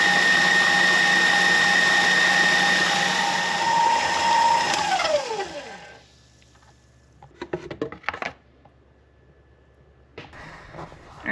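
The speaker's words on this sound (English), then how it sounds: "this is where I will kind of slow down the speed of the mixer, because once it does break into butter, it sloshes around quite a bit more" An electric mixer whirs loudly and steadily while churning goat's milk cream into butter, then spins down and stops, followed by a few scattered clatters and splashes.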